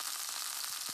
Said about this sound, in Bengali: শুটকিটাকে আমি হালকা ভাজার জন্য আমি সেটা তেলে ছেড়ে দেব